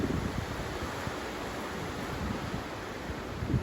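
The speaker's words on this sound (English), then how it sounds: "You hear the wind." Wind blows through cypress trees in a steady broad rush with soft gusts and rustling, faint and diffuse, with no voices.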